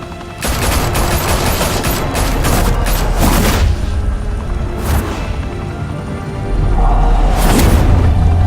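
Heavy gunfire bursts from the Batman: The Telltale Series video game, a loud, dense fusillade of shots with booming impacts that swells in waves across the scene, with no talking.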